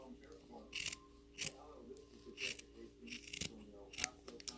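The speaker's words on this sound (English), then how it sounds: "I'm just going to trim it up a little bit with the scissors" Scissors snip fabric for a no-knit Barbie sweater, a series of short crisp cuts spaced about every second or so, fairly quiet and close, with light talking underneath.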